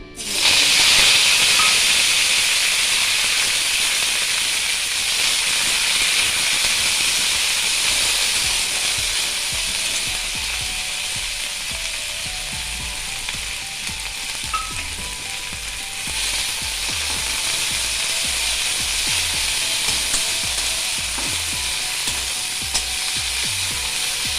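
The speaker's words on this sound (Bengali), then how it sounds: "এবার আমি কারি পাতাটাকে ভেজে তুলে নেব।" Chopped curry leaves crackle and sizzle steadily in hot oil for paratha, a bright continuous hiss with fine popping that fades a little toward the middle before resuming; no talking.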